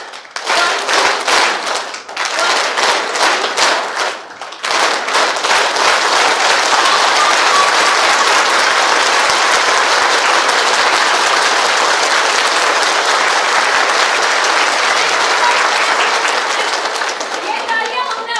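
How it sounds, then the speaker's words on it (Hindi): Loud, sustained applause from a seated training-session audience, beginning with a few rhythmic group claps in counted beats, then breaking into continuous dense clapping that carries on at full strength to the end. "ये तालियां हमने अपने आप के लिए दी है"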